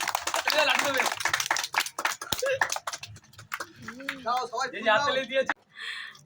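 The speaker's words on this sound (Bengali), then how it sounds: "এই তো হাততালি দাও।" People clap hands in a quick, uneven burst at a neighbourhood Independence Day gathering, close by under loud overlapping voices and chatter, with the clapping fading as talking takes over.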